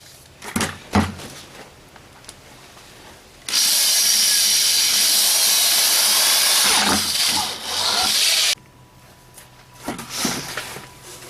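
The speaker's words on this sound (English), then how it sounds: "I'm going to drill a hole" A power drill whines steadily for about five seconds while drilling a 1-inch hole in a plastic bucket, briefly dipping near the end, with scattered knocks and handling noises before and after.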